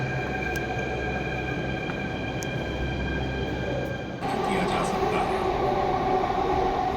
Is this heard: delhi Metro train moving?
yes